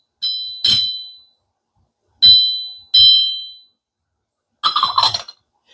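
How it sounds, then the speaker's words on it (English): A lead crystal trinket dish is tapped several times, each tap giving a bright, clear ring that decays quickly, with separate taps and then a quick flurry near the end. "You can tell it's crystal by the ringing sound when you tap it."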